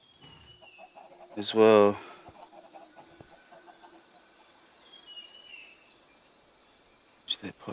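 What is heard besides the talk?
chickens clucking in video game Minecraft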